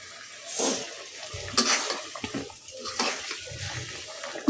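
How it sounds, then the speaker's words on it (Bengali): Kolai greens are rinsed under running water in a home kitchen, a close, uneven splashing and swishing of leaves with faint clatter, no voices. "এই যে কলই শাকটা ধুয়ে নিচ্ছি"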